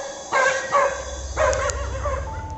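A dog barks three times in close succession, loud and near, with a low engine-like hum and background noise running underneath and no talking.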